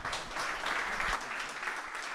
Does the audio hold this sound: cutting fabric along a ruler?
no